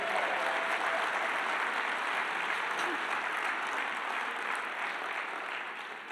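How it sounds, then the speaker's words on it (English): Seminar audience clapping for themselves at an entrepreneur event, an even, fairly distant wash of applause that holds steady and tapers slightly at the end. "Give yourselves a round of applause for betting on yourself."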